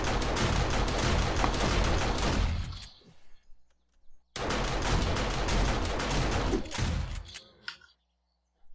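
Auto turret and shotgun turret in 7 Days to Die blast away in two long, loud bursts of rapid gunfire, each trailing off into a short echoing pause.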